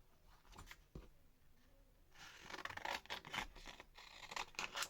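Paper being cut along its edge with scissors while making faux tickets, giving a few soft snips early on, then a denser run of close scratchy cutting and scraping strokes.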